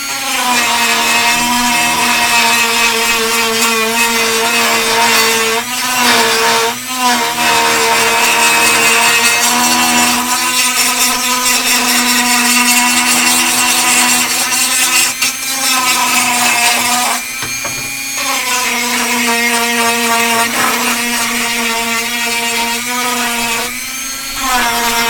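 A power tool grinds the surface of a glass construct, giving a loud, steady whine with sustained tonal hum that runs nearly unbroken, dipping only briefly a few times.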